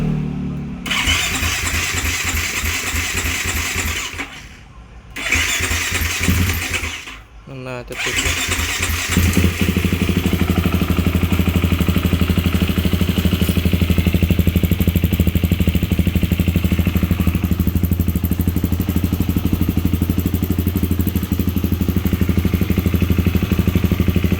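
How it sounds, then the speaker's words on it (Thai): A small motorcycle engine cranks and sputters in a few short bursts, then catches and settles into a steady, close idle, with someone talking over the early attempts. "ถ่ายโมโตเล็ก ก็มีติดเครื่องบ้างหน่อย"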